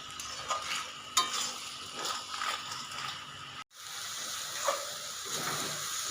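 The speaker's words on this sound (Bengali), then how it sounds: "এবার আমি খুব ভালো করে মিশিয়ে নিচ্ছি আবারও" Taro stolon curry being stirred in a pan, with a steady low sizzle and soft scraping strokes, one brief dropout midway, then more gentle stirring.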